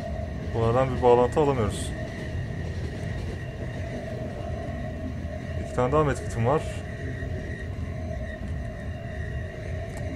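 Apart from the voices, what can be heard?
train running in the video game The Final Station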